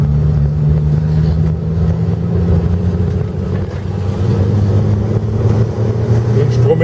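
A 1970 Ford Mustang with automatic transmission drives along, its engine a steady low rumble throughout, overlaid with road and wind noise at fairly constant loudness.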